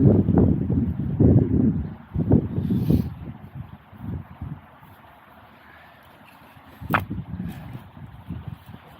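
Wind buffets a riverside camp by the River Eden in loud gusty rumbles close to the microphone, easing off in the middle and rising again in a brief gust near the end.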